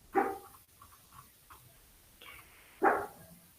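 A small pet dog at home barks twice, two sharp, close yaps a few seconds apart, with faint whimpers and quiet sounds between them.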